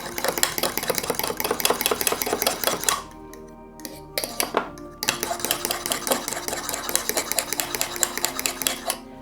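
Fromage blanc and egg yolk whisked briskly in a bowl, a dense run of rapid metallic clicks and scrapes that breaks off briefly near the middle, then resumes steady and close.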